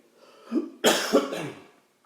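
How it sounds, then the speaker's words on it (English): A couple of short, sharp coughs from one person nearby, preceded by a softer throat sound, then quiet. "A little cough."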